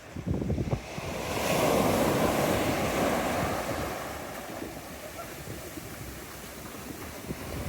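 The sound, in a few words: sea waves on a Peloponnese beach in January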